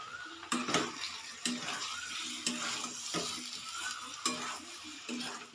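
Mustard paste fries in a pan with sizzling hiss and repeated scraping strokes of a spatula at a steady rhythm, quiet and close, with no talk.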